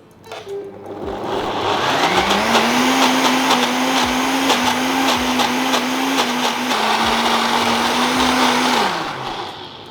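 Countertop blender whirring steadily as it purees a Sindhi-style roast chicken marinade, a loud continuous motor drone that spins up, holds for several seconds and winds down near the end.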